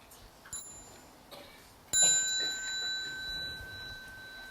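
A small mindfulness bell rings at a meditation retreat in Nottingham, giving light metallic strikes followed by one clearer struck tone whose pure ring lingers and slowly fades in a quiet room.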